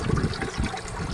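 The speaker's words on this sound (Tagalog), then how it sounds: "circulating pump para may flow yung tubig" Water from a circulating pump flows steadily into a small backyard crayfish pond, a continuous close trickling and gushing wash with slight surges, no voices.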